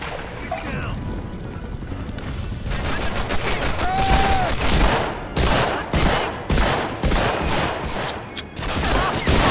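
Rapid game gunfire bursts in a PlayStation demo disc war shooter, loud and close with mechanical rattling, repeated volleys building through the clip, with a person talking over it.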